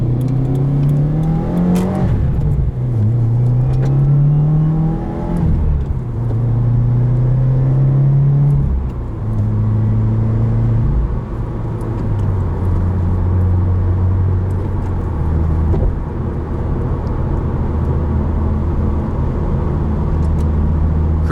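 A 2017 Subaru WRX engine rumbles and revs loudly, pitch rising and falling through several gear changes before settling into a steady, close exhaust drone.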